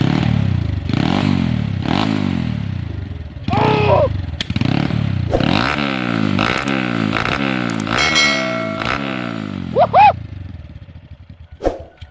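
A 125 cc motorcycle engine cranks, catches and revs repeatedly in close, rumbling bursts, with some clattering and a metallic ring near the end.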